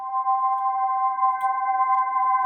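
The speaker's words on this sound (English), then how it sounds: "I just use like a random preset from Ableton, analog slow sweep pad" Analog slow sweep pad synth preset from Ableton with reverb, a steady sustained chord of pure tones holding evenly throughout, smooth and unbroken.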